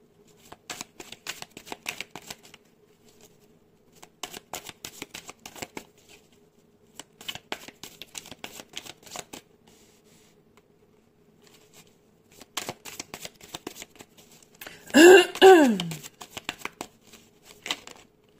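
Tarot cards being shuffled in repeated short riffling bursts separated by pauses, crisp and close, with a louder handling flurry near the end.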